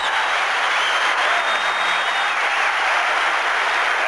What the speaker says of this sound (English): And the Pauley Pavilion crowd applaud his performance